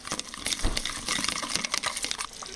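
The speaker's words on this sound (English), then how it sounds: "I'm going to put a little drop of water in it." Water splashing and trickling into a pot for a few seconds, a steady close pouring sound with bubbly spatters.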